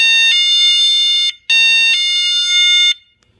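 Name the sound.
cheap standalone alarm sounding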